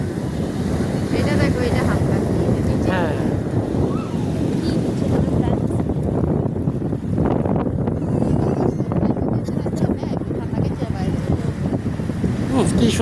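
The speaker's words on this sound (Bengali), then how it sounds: "কি সুন্দর ঠান্ডা বাতাসটা" Strong sea wind gusts continuously across the microphone at the seashore in Jeddah, Saudi Arabia, with a rumbling roar and surf beneath and a brief spoken word.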